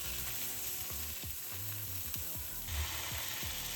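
Folded egg fries in a pan while being made for a Japanese tamago sando, giving a steady close sizzle with a few soft scrapes and knocks from turning it over.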